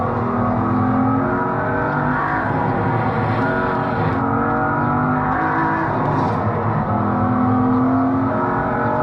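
Car engine lapping the Nürburgring, a loud, sustained drone with shifting pitch as it accelerates and lifts through corners, heard close from on board with no voices.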